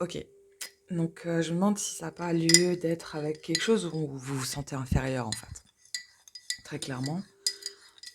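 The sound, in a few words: spoon clinking in a coffee cup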